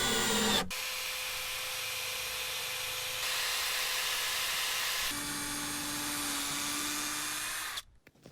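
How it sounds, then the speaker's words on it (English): A power drill whirs steadily for several seconds, its pitch shifting as it drives screws into wood, then cuts off abruptly. "pre-drill some holes, and then put some screws in"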